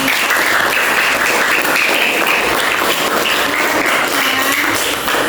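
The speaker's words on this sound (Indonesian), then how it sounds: "Kan tepuk tangan dulu buat kelompok 2" A classroom of elementary pupils claps steadily for a group that has just finished presenting, a dense, continuous patter of small hands filling the room without pause.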